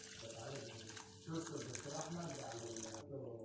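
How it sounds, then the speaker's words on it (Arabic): Boiling water is poured into a pan of tteokbokki sauce, a steady liquid splashing and sizzling for a few seconds, with faint voices underneath. "نحط مية مغلية،"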